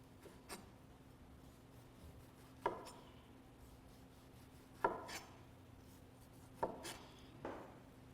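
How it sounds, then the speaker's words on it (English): A chef's knife slicing along the side of an orange on a board, four distinct cuts spaced a couple of seconds apart, each a soft knock and brief scrape, quiet and close with no talk. "we're just gonna slice the orange right on the side like this"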